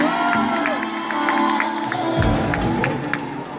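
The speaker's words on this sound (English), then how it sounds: "let's give another round of applause, please." An audience at a Miss Ghana UK beauty pageant applauds and cheers for a contestant, with whoops and crowd noise over clapping and a music bed underneath.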